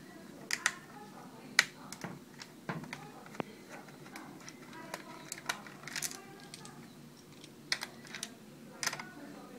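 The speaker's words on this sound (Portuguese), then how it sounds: "tirei o parafusinho, bonitinho aqui." Small clicks and taps from working a screw out of the keyboard on an LG A510 laptop, sharp irregular ticks close by, with quiet talk in the background.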